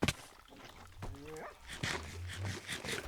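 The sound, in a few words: dog whimpering in a video game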